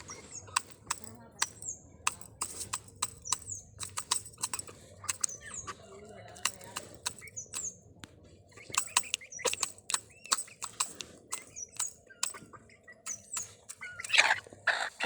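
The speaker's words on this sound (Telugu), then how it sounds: "ఇవి తిండి పోటీ, చిన్న పోటీ కాదు, ఇవి కొట్టుకుంటాయా మేత కోసం." Chicks compete for feed, giving a busy run of sharp, high peeps and cheeps in rapid bursts, close and clear, with brief quiet gaps and faint background murmur.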